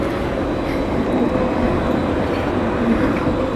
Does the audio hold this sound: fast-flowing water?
no